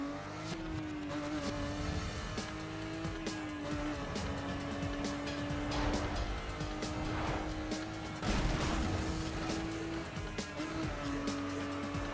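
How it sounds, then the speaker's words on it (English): A stock car engine drones steadily in a driving video game, with tire squeal and skidding rising over the running engine at moderate, continuous loudness. "Stock engine sound is actually quite nice though."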